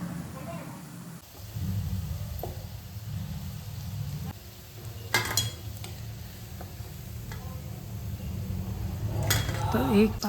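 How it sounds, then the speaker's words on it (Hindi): Lauki kofta balls fry in oil in a kadhai, a continuous bubbling sizzle with scattered clinks of a spoon against the pan, while someone talks over it throughout. "तो यहाँ पर अच्छे से कोफ्ता बॉल्स पक रही हैं"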